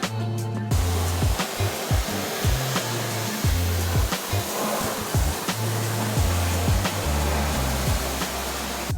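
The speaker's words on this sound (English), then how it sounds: "I started with a pressure rinse down to remove the lighter dirt and cool the area down" A pressure washer rinses the wheels of a 2020 Lexus NX, a steady loud hissing spray with a low motor drone that pulses on and off in short bursts throughout, close by and alone without talk.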